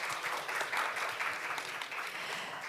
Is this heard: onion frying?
no